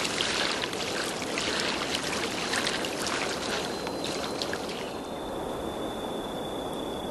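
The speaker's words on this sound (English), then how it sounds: "they listen to the gentle swash of water against the shore" Gentle water laps and swashes against the shore of a high-altitude alpine lake in Taiwan, a steady soft wash with faint trickles and a thin high tone in the background.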